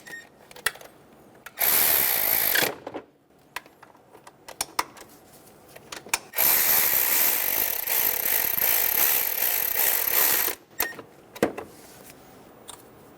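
A power tool snugs bolts in a cross pattern on a 2003-2007 Honda Accord during a fuel injector job, with a short whirring burst followed by a longer sustained one, close up, and light metallic clicks in between.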